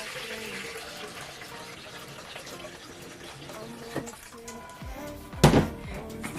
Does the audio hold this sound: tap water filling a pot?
yes